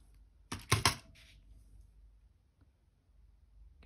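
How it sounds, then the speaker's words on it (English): Cutters snip the end off a piece of jewellery wire, giving a sharp double click up close, then a faint tick and quiet room tone. "Cut that end off."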